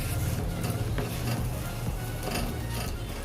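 Raw semolina being stirred into ripe palm pulp in a pan for a palm-fruit jalebi batter, a steady close scraping and squelching with soft irregular strokes and no talk.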